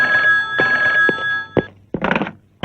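A new cell phone rings with a steady electronic tone for about a second and a half, then gives way to a few knocks and a short burst of clattering noise. The sound is close and fairly loud.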